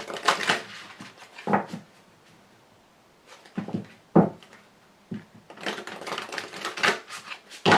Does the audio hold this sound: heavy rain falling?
no